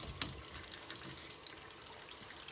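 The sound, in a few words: water trickling through black sink overflow pipe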